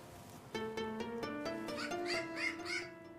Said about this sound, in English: These crows are a unique species, and they come from an island in the Pacific Ocean, the island of New Caledonia